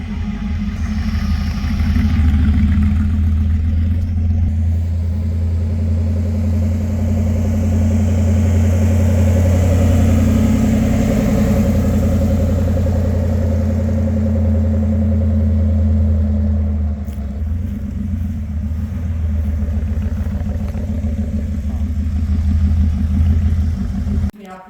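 A 1956 Corvette engine runs steadily throughout, a loud, continuous low rumble with a deep idling throb that holds nearly unchanged from start to finish, close by and with no break.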